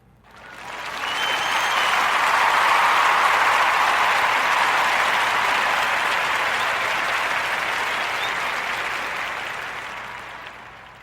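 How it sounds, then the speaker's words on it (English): Audience applause for podcast guest Michael Atkins on The Narrative Podcast, a sustained, dense clapping that swells quickly, holds steady for several seconds and slowly tapers off, with no talk over it. "Please join me in a Warm Narrative podcast round of applause for our brother, Michael"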